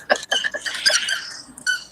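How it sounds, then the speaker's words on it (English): A pet's squeaky toy is squeezed several times in quick, uneven bursts, close and fairly loud, with short pauses between squeaks and a final squeak after a brief gap. "found her squeaky for you"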